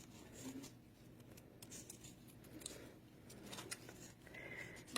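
Scissors snipping around a paper design for decoupaging candles, a faint, continuous run of soft crisp cuts and rustles, close and quiet with no talking.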